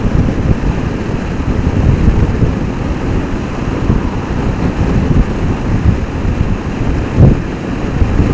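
Steady, loud wind roar buffeting the microphone of a rider moving at about 80 miles an hour on a motorcycle with its 4-inch visor removed, a continuous low rumble throughout with no talking.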